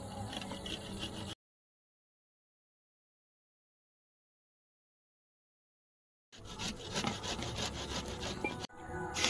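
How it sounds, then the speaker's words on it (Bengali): Ginger and garlic rasped by hand on a grater in a home kitchen, a steady scraping and rubbing in two bursts separated by a long stretch of silence, fairly close with no talk. "আদা রসুনটা কোরনে করে নেব"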